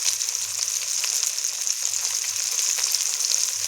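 Bhola fish fries steadily in a pan with oil, giving a continuous close sizzle and crackle that stays even throughout, with no talking.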